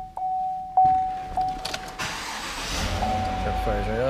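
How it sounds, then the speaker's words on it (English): A Chevrolet Silverado pickup starts up after a few warning chimes: a brief cranking burst, then the engine catches and settles into a steady low idle, close by. "Truck fires right up."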